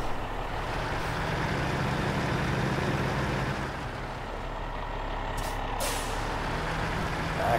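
A heavy truck reversing in SnowRunner holds a steady, loud diesel drone, with a hiss of air brake near the end and faint repeated reversing beeps.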